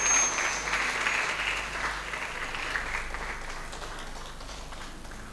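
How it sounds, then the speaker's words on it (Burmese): Guests at a wedding clap in a dense burst of crowd applause that starts full and slowly tapers off, with no clear voices over it. "လက်ခုပ်တရအောင်ဟုတ်"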